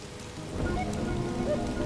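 Steady rain falls outdoors in a broad, dense hiss of drops hitting surfaces, continuous and fairly close, with no voices.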